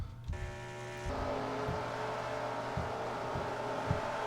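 A stock race car leaving pit road in a racing video game, its engine note rising to a sustained droning roar, steady and fairly close with faint ticking transients underneath.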